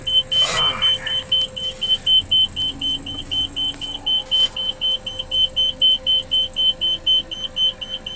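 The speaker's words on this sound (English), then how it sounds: "this truck is equipped with a GPS tracker. That's the beeping right now." Steady electronic beeping from a GPS tracker repeats rapidly and evenly inside a truck with a 10-speed Eaton Fuller manual transmission, over a low engine rumble, with a brief rustle near the start.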